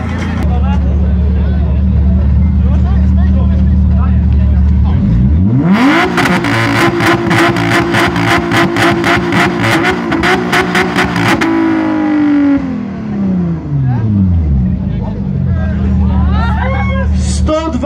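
Italian car at a motoring festival in Rzeszów revs its loud exhaust, climbing to a roaring, crackling high-rpm blast for several seconds before dropping back to idle, amid crowd chatter and talk nearby.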